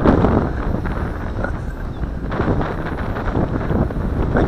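Strong gusty wind roars continuously and loudly across the microphone while a Syma X5C quadcopter is flown outdoors on a windy day, with a steady rumbling buffet throughout.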